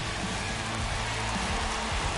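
Steady rain hiss falls across a baseball game in MLB The Show 21, a Mets versus Marlins franchise matchup, with a low murmur of crowd and game tones underneath and no clear talk.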